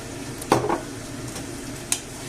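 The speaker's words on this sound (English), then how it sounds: "I'm going to add the rice, just sprinkle it on there like as if it was a paella." Rice grains scattered into a hot pan of sausage and chickpeas, a quick burst of sizzle and stirring clatter that rises sharply, then settles into a steady low frying hiss with a faint clink near the end.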